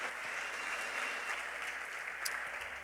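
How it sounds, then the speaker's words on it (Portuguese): Audience in a church conference clapping, a dense steady wash of many hands applauding together, fairly distant and even throughout. "Dê um aplauso ao Senhor."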